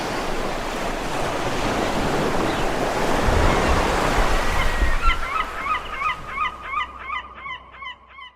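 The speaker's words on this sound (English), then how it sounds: "The tide is coming in fast and strong." Sea waves of a fast, strong incoming tide surge and hiss steadily with low rumbling wash, while geese honk repeatedly in the later seconds.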